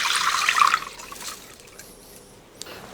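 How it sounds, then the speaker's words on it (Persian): Soaked rice is drained through a colander in a home kitchen: a rush of pouring water for the first second, easing into faint trickles and a few drips, close and alone. "خب برنج خیس خوردمون رو آبکش کنیم."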